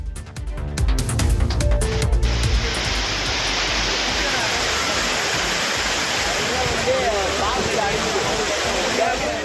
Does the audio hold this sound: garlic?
no